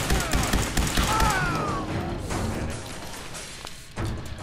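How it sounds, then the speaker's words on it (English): A burst of gunfire in Fallout 4 opens with rapid, loud thumping shots, then thins into scattered impacts and rumble toward the end, with no talk over it. "why is this person shooting at me and Nick is not shooting them?"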